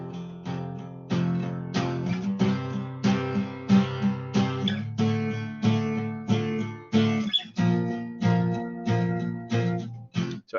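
Non-syncopated music example played with a straight, even rhythm: evenly spaced chords sounding one after another on the beat for about ten seconds, clear and close, with no talking.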